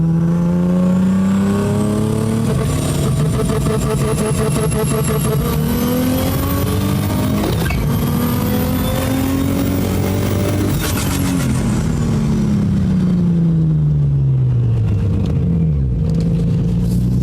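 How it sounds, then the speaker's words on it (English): A turbocharged Infiniti G35 accelerates hard through third gear, its engine note climbing steadily to high revs in a loud, sustained close-up roar, then dropping sharply on the shift and settling. "I want to like stretch third out a little bit, see if it breaks up"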